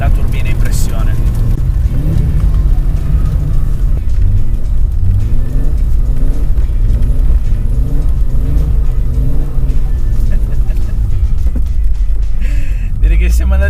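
Audi Quattro turbo engine held at high revs, a loud close droning roar with repeated rising and falling pitch sweeps as it accelerates, continuous under the cabin noise.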